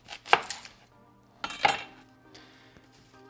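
A knife cuts through an onion on a board in two sharp, close chops about a second apart, with a light clink of utensils after.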